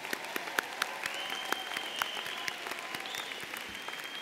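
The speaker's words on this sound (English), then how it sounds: "Please all join me in a round of applause for these graduates." Audience applause for graduates at a university honors college commencement ceremony, steady sustained clapping from a large crowd in a hall with sharp individual claps standing out.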